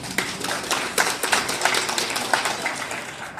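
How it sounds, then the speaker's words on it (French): An audience claps at a welcome gathering, a loose scattering of individual claps with uneven rhythm, fairly close and moderately loud, holding steady for a few seconds. "Vous pouvez vous applaudir d'être là."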